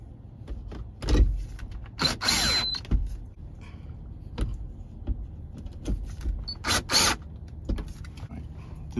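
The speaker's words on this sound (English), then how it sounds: "Put on the screws." A power drill drives screws into a Honda Pilot dome map light, with short close whirring bursts separated by clicks and plastic handling noises.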